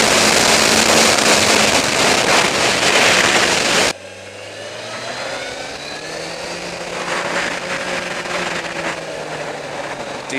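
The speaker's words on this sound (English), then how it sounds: "It actually makes quite a nice engine noise once you rev it out." A 2014 Suzuki GSX1250FA motorcycle engine revs out on a fast road ride, starting with a loud burst of wind-blasted roar, then a rising, whining engine note that builds steadily with rushing air noise.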